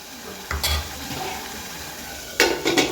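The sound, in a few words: spices frying in oil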